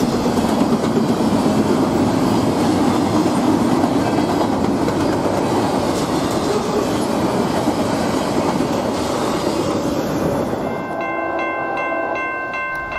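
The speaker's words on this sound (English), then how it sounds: "This is our final train of the night till I get up in the morning." A train rolls past on railroad tracks at night near Chesterton, Indiana, a steady close rumble and rattle of cars that fills the whole stretch before easing off slightly near the end.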